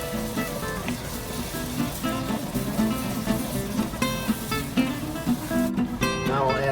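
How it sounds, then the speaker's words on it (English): Beef stock deglazing a hot pan for an Italian-style beef stew, giving a loud, steady sizzle that runs unbroken throughout, with tonal sounds layered over it. "add a little beef stock and then scrape up all of that stuff off the bottom of the pan"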